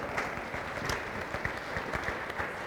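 Audience applause for contestants at a charity best-bagger grocery bagging championship, steady dense clapping that runs throughout with no gaps, moderately loud and close.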